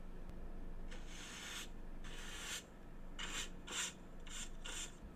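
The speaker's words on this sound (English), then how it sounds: "Oh, yes, sweeping, of course." Broom bristles sweep across a floor in a soft ASMR setting, with repeated rasping strokes in bursts of uneven length, close and gentle over a steady low background hum.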